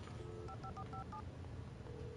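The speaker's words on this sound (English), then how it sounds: "Oh, the phone." A phone in the Alan Wake video game gives a short burst of electronic tones, several quick beeps in a row followed by one held tone, sounding close and alone with no talk.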